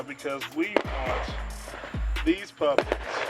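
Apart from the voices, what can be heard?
Fourth of July fireworks in the background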